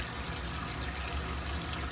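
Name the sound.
bathroom faucet running water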